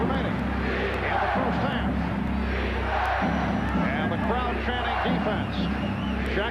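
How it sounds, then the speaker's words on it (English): Basketball arena crowd during a 1995 Pacers–Knicks Game 7, a dense steady roar with a rhythmic chant pulsing through it, loud and continuous, with a commentator talking over it. "And the crowd chanting defense."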